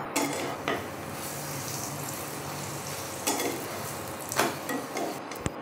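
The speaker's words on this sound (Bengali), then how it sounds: "এখানে আমি সাদা তেল দিয়েছি, এইভাবে এগুলি ভেজে নেবো।" Parathas sizzle in white oil in a frying pan, a steady close frying hiss with occasional scrapes and clatters of a utensil against the pan.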